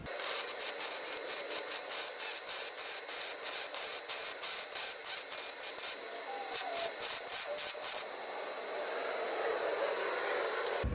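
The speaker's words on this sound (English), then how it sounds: "Obviously I'm welding overhead, it got a little bunched up" Overhead welding of gussets onto the frame of a 1968 C10 truck: a loud, close, crackling hiss broken into rapid rhythmic bursts, then smoothing into a steadier buzz toward the end, with no talk.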